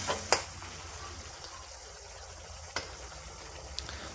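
Vegetables such as potato and carrot dropped into hot spiced oil, a soft continuous frying hiss with a couple of sharp clicks of a utensil on the pan, fairly quiet and close, no talk.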